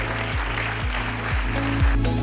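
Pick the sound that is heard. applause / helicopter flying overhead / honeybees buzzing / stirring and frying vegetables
applause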